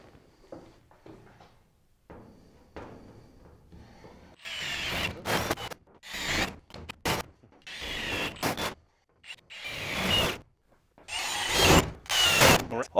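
Holes being drilled through the wall of a school bus for RV windows, with quiet handling at first, then loud bursts of drilling that start and stop in a ragged pattern, close and alone.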